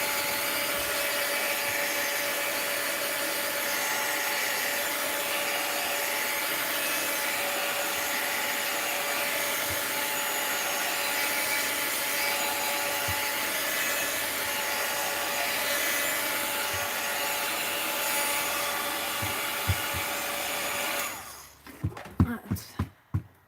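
A heat tool blows continuously as it dries damp, freshly glued paper in a mixed-media art journal, a loud steady whooshing roar that cuts off near the end, followed by a few handling taps.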